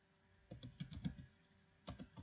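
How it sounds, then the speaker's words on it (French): Keystrokes on a computer keyboard, a quick burst of clacking taps followed by a pause and a shorter second burst, close and fairly soft with no talking. "Je tape Boursorama,"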